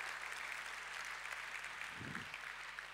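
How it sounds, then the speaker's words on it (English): Steady audience applause fills a large event hall as NVIDIA CEO Jensen Huang is welcomed as guest of honor at the launch of Indonesia's first AI cloud by Indosat, a continuous even clatter of clapping throughout. "Let's give a big round of applause."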